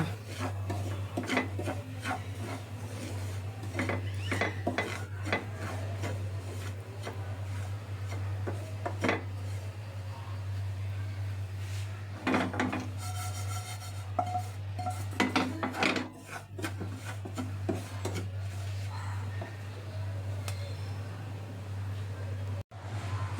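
Semolina roasting in ghee over low heat, a spoon scraping and stirring against a pan in repeated rubbing strokes, with occasional clinks over a steady low hum.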